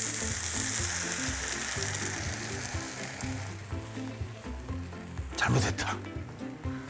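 Boiled pasta noodles sizzle as they are stir-fried in cooking oil in a frying pan, a steady loud frying hiss with stirring scrapes and a clatter near the end.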